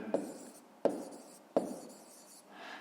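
Pen strokes on paper while a fraction is written out for a fifth-grade maths exercise: three short, distinct scratches at a steady pace, close and quiet, with a softer rub at the end and no talking.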